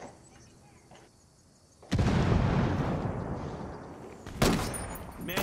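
A video game firefight with heavy gunfire and explosions: a quieter stretch breaks into a loud, dense barrage of shots and blasts, with another sharp burst of fire near the end.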